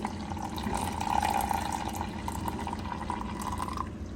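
Water runs into a mixer jar for a few seconds, a steady filling splash that swells briefly in the middle.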